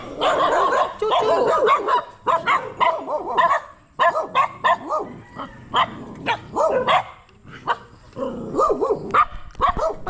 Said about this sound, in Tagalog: Ang lalaki ng aso.